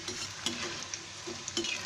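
Shankarpali, a sweet Diwali snack, frying in hot oil, giving a soft continuous bubbling sizzle with a few light stirring knocks at a steady low level.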